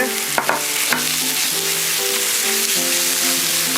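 Beef stir-fried with green onion and garlic in an oil-slicked pan gives a steady, close sizzle, with a few light clinks and scrapes of the utensil near the start.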